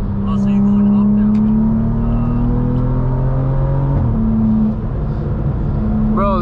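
A BMW, a new M340i or an older 440i in a roll race, accelerates hard with a loud, steady engine drone whose pitch climbs, dips briefly at a shift, then climbs again under the rush of road noise, while voices talk over it.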